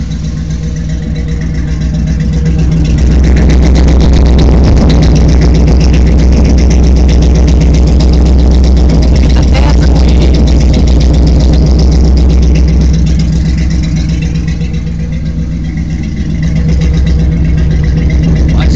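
A car engine idles loudly through a deep, throaty exhaust, a steady rumbling burble that swells slightly and then settles, with no talking.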